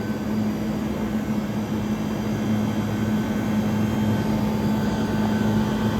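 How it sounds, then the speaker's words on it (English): A 1978 Comfort-Aire Quietmaster 29,000 BTU air conditioner runs with a steady, even fan whoosh over a constant low electrical hum, close and unbroken throughout. "Listen to that fan right there."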